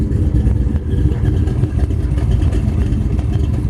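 A 1958 Chevrolet Impala hardtop resto-mod with a 348-409 engine revs and idles roughly with a choppy camshaft lope, loud and close with no talking.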